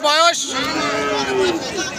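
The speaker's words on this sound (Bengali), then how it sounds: "খুব সুন্দর এক জোড়া খামার উপযোগী ষাঁড়।" A bull at a cattle market for farm-ready bulls lets out one long, loud, close moo that fills the clip.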